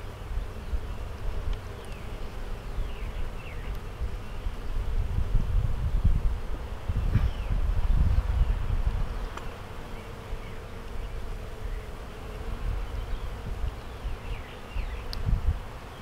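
Honey bee colony droning steadily while a hive is opened for a spring inspection, a dense continuous buzz that swells in the middle and stays close, with no talking.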